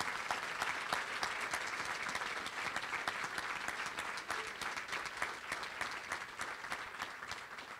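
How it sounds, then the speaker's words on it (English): A crowd at a New York State Democratic Party meeting applauds, with broad, continuous clapping from many hands that holds at a strong, even level throughout and stays free of speech. "let's give him a round of applause on that."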